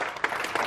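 Audience applause at a meeting, a brief burst of many hands clapping together, fairly steady and close, with no speech over it.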